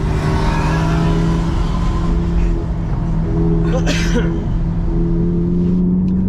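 A Ferrari 488 engine holds a steady loud drone as the car accelerates, its revs held high without an upshift, with a continuous road rumble and a brief whoosh partway through.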